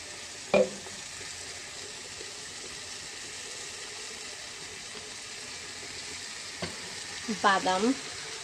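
Spices and ingredients, including coriander powder and soy sauce, fry and sizzle steadily in a pan, with a few sharp clatters of stirring and a brief burst of scraping near the end, fairly quiet overall.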